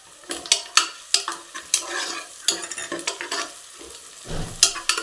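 Ginger garlic paste frying with onions in a home kitchen pan for vegetable pulao, a soft sizzle under repeated scraping strokes of a spoon stirring, loud and close with irregular bursts.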